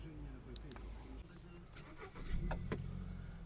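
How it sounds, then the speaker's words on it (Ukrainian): A 2009 Volkswagen Touran with a 1.6 MPI petrol engine runs at idle, a steady low mechanical hum with some rising revs partway through, heard close up alongside a few faint clicks. "розглянемо роботу двигуна"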